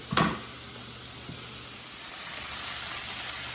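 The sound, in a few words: sausage frying in a pan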